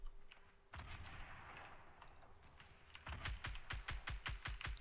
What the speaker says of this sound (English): Whoa, that sniper just barely missed me.